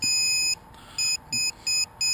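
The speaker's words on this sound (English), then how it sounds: "this is a lost alarm switch" A quadcopter's lost-model alarm gives a shrill electronic beep repeating in short pulses about every third of a second, loud and close with brief gaps between.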